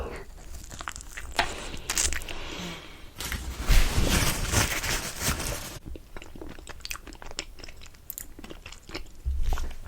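Close, crunchy chewing and biting of a trompe-l'oeil dessert served with a slightly bitter orange coulis, with soft crinkling, moist mouth sounds and brief louder bursts of crunching.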